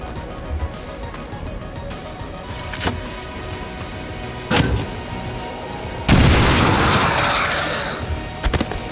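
A frag grenade blows up in a video game with a loud, broad burst that tails off over a few seconds, preceded by a couple of sharp cracks and followed by short thuds.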